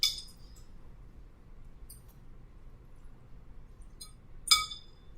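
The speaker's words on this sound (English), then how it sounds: "we're just going to put it into a glass baking dish" Raw chicken is set into a glass baking dish in a kitchen, giving a few faint glassy clinks and one sharper clink near the end over quiet room noise.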